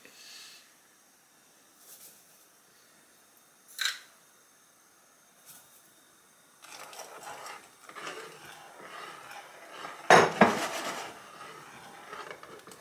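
A spoon knocks against a pot to shake sugar off it, giving a few sharp metallic taps amid quiet kitchen clatter and light handling sounds.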